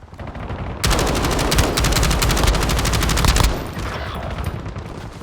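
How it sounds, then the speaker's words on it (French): Sustained automatic gunfire in the video game Call of Duty Warzone, a rapid, loud, continuous burst lasting a few seconds before cutting off into quieter game ambience. "Je me fais tirer dessus"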